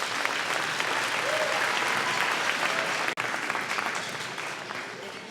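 An elementary school audience at a beginning band concert applauds for the principals and administrators, steady dense clapping that holds for several seconds with a brief dropout near the end.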